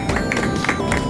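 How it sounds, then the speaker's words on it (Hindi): An audience at a ceremony claps for a young girl who sang a Buddhist devotional hymn and placed second, giving steady, dense applause close and fairly loud, with crowd murmur blended in. "इसके लिए जोरदार तालियां"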